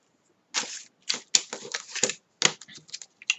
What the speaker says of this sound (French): Ensuite, je reprends mon ciseau.